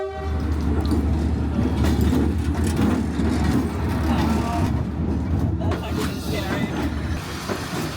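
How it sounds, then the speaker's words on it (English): A train rolls past close by on a track in Hanoi where a bottle cap has been placed, giving a loud, continuous rumble with rhythmic wheel clatter while people nearby talk. "put this bottle cap on the train track and the train will make it flat"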